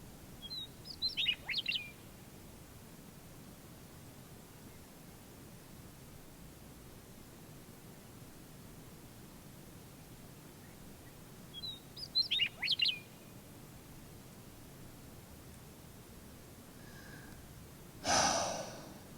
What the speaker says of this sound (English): the birds, it's like a cathedral. When they chirp, there's reverb that trails off for a good 5 seconds.